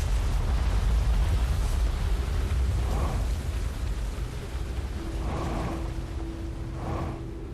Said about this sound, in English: Got the ship out of the cannon.